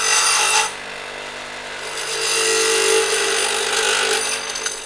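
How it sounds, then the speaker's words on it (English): Long drill bit boring into a bike part, a steady grinding, rubbing whine that starts loud, dips, then swells again and holds close and continuous. "I think I'll just keep drilling it and get it out that way."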